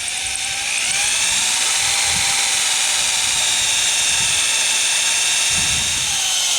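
A loud, steady high-pitched mechanical whine of a sharpened bit in a hand drill boring through thick locomotive steel, continuous for several seconds with a few low thumps beneath.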